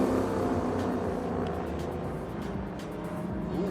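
Race cars, Cayman GT4 and TA2 machines among them, roar past at Sepang International Circuit in Malaysia, a steady loud engine drone with passing swells and no voices.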